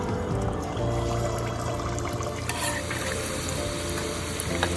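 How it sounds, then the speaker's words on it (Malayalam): Banana gulab jamun balls frying in hot oil, a steady dense sizzle and bubbling that runs continuously at close range, with a brief stir-like scrape midway and no talk. "നമുക്ക് നമ്മുടെ ഗുലാബ് ജാമുൻ നമ്മുടെ ഇതുകൊണ്ട് ഉണ്ടാക്കിയത് അത് നമുക്ക് ഫ്രൈ ചെയ്യാം കേട്ടോ."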